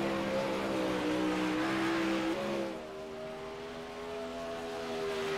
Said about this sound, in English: So we got cars out on track now.